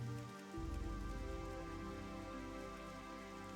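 Steady rain falling in Loch Modan within World of Warcraft Classic, a continuous soft hiss beneath a layer of game music with sustained tones, fairly quiet throughout with no voices.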